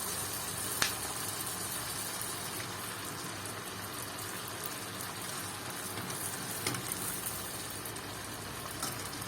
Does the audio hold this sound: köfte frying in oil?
yes